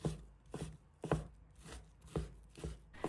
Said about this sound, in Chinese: 再切成小块